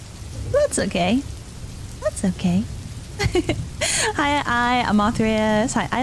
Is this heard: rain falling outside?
yes